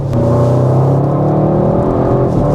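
A 2025 Audi RS6 GT accelerates under throttle on a road, a loud, close, steady low engine drone with layered harmonic tones inside the cabin.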